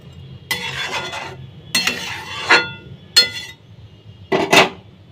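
Mustard hilsa fish curry being stirred in a pan, heard as four short bursts of scraping and clinking from a utensil against the metal, close and distinct, separated by quiet pauses.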